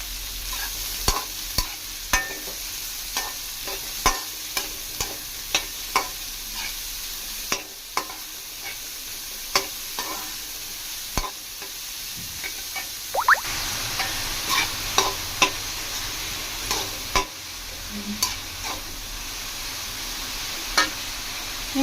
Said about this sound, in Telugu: నేను ఇందాక సన్నగా కట్ చేసి పెట్టుకొని ఆనియన్ కూడా వేసుకుందాం.